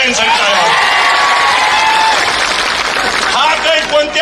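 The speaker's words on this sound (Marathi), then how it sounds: "त्या माणसासाठी एक टाळ्या, सगळ्यांसाठी टाळ्या" Loud, sustained applause and cheering from a crowd at a political gathering, clapping for everyone, with whoops and voices rising over the dense claps for the whole stretch.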